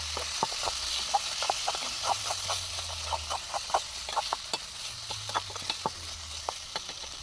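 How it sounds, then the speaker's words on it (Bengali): Spiced masala of turmeric, chilli, coriander and cumin powder sizzles in a pan for prawn curry, with a steady soft fry and repeated light scrapes of a spatula stirring at an even rhythm throughout. "ভালো করে এবার আমি এটাকে কষিয়ে নেব।"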